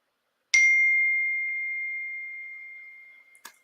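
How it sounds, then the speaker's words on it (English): A phone notification chimes once, a clear, fairly quiet bell-like ding that rings out and fades slowly over about three seconds, then a short second chirp follows at the end. "Y'all see how my phone is blowing up."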